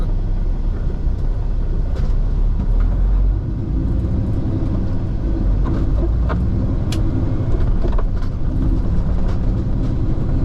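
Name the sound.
train hauling sugar cane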